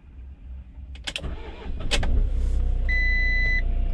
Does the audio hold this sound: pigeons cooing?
no